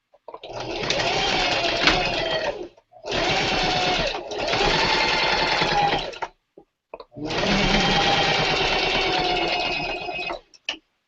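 A sewing machine stitches a 5/8 inch seam in fabric, running in fast whirring bursts of two to three seconds. Short pauses fall between the bursts, and the machine is close and loud.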